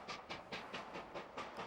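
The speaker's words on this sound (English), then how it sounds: "Trains arriving at Goathland make an impressive sight, storming up the 1 in 49 gradient right into the platform, the engines roaring away well into the station." A steam train climbs a 1 in 49 gradient into Goathland station, its rhythmic exhaust chuffs beating about five times a second with a hissing edge, steady and moderately close, with no voices.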